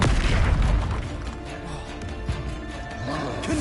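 A deep booming blast from the Confringo fire spell in Hogwarts Legacy hits hard at the start, then decays into rumbling debris and scattered pops.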